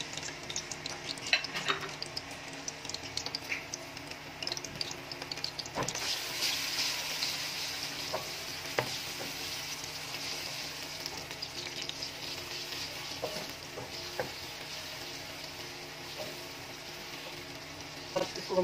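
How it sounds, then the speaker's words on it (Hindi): Ginger-garlic paste hitting hot oil in a karahi, a steady crackling sizzle close by with occasional ticks and stirring scrapes. A louder burst of spitting sounds partway through, then it settles to a constant fry. "गरम होने के बाद अब हम इसमें डाल दें अदरक लहसुन का पेस्ट"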